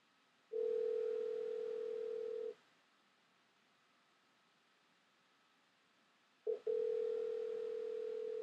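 A MagicJack telephone line gives a steady, loud dial tone for about two seconds. It falls silent for several seconds, then returns after a brief blip and holds steady to the end.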